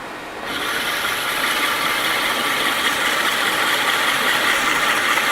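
A Helix floor grinder runs on low speed, stripping old epoxy from a floor: a steady, loud abrasive rasp and motor drone that starts just after a brief quiet moment and holds unbroken to the end.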